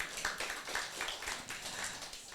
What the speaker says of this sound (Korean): 신실하신 하나님. 박수 한번 쳐주세요.